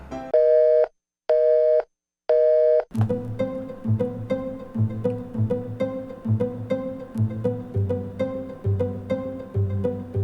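A telephone line gives three loud, evenly spaced call tones with short gaps between them, then music takes over for the rest of the clip.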